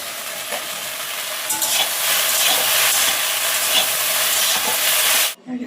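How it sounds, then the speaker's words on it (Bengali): Okra and prawn curry cooking in a pan, with a steady loud sizzle and the scrape of stirring throughout, stopping abruptly just before the end. "এখানে ঢ্যাঁড়সের তরকারি হচ্ছে, চিংড়ি মাছ দিয়ে ঢ্যাঁড়স দিয়ে।"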